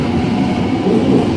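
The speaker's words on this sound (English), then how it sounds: "And zap goes the pantograph" An electric Waratah train pulls into a station platform at night, giving a loud, brief burst of rumbling, buzzing electrical noise from the pantograph with no voices.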